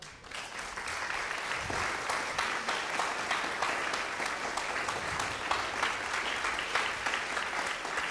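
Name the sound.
concert audience applause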